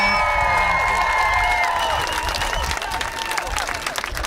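An outdoor crowd at the Queer Pride Groningen 2019 event applauds and cheers loudly, with whistles and shouts over continuous clapping that eases slightly toward the end.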